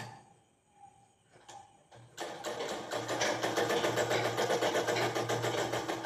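A sewing machine stitching fabric for a pleated knicker starts after a quiet moment and runs steadily at close range, a fast even rhythmic clatter with a low motor hum, no talk.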